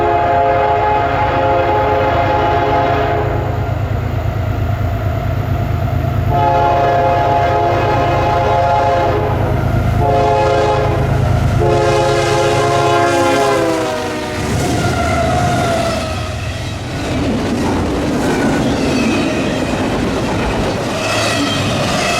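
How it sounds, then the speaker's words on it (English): CSX intermodal freight train led by BNSF GE locomotives, with long harmonic horn blasts sounding repeatedly over a loud rumble of passing rail cars. "we heard the horns of CSX I-172, the BNSF Transfer Intermodal, in the distance"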